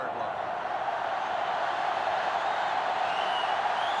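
A sellout stadium crowd roars steadily in an NCAA Football 2005 game between Notre Dame and LSU, a dense, continuous wash of distant cheering with no break.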